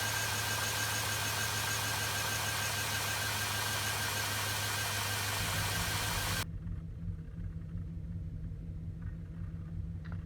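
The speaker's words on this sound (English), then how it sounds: "you got a rough idle as shown here" A car engine with a failing fuel filter idles roughly, a loud, uneven, continuous rumble close by that drops to a quieter low idle partway through, with no talk.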